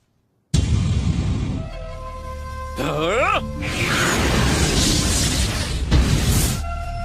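An anime jutsu explosion, the Beast Wave Bomb from Naruto in a Hindi dub, bursts in with a sudden loud boom, then swelling roaring blasts and whooshes layered with a shrill rising effect and dramatic tones.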